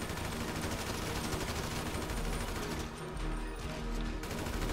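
Sustained gunfire in the video game GTA 5, dense rapid bursts of shots running almost unbroken, with a short lull before the firing picks up again.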